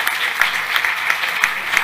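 An audience at an art prize award ceremony, the Salon de Montrouge 2021, claps in steady, dense applause that is loud and close, with no speech over it.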